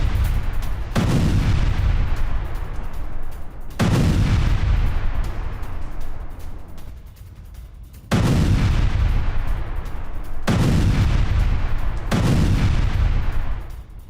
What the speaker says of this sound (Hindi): आईडीएफ ने हिजबुल्लाह की सुरंग को उड़ा दिया है।